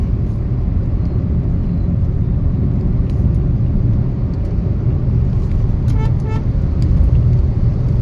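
Slow-moving traffic jam on the Hyderabad–Suryapet highway, a dense continuous roar of vehicles close by, with a few short horn toots near the end.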